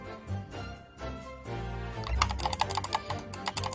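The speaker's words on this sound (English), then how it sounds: "Somebody is clicking real loud." Loud, rapid keyboard typing clicks burst in close and busy over game music during a gameplay session, the keystrokes dense and uneven in the second half.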